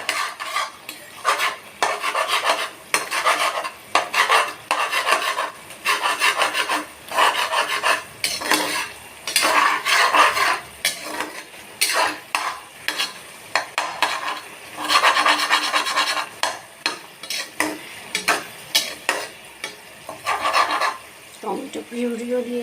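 Fried hilsa fish heads stirred with spice paste in a pan, a steady scraping and rasping of a spoon against the pan repeating in quick strokes throughout, with someone speaking over it.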